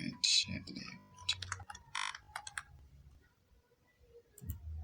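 Quick bursts of computer keyboard typing, close and fairly quiet, with clustered key clicks separated by brief pauses and a faint low background hum.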